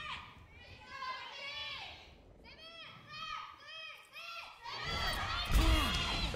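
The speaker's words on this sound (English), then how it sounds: "Seven fans still going to be way more vocal here in the audience, but MVP, they finally have something to cheer for." An esports audience at a Korean Overwatch World Cup match shouts and cheers in rising bursts of voices that swell into a loud roar near the end, with a commentator speaking over them.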